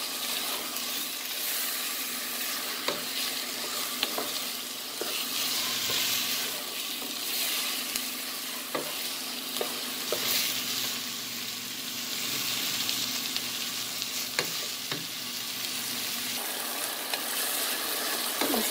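Chicken frying in a pan with salt and garlic, a steady close hiss and sizzle of oil throughout, with occasional light scrapes and clicks of stirring, no talk.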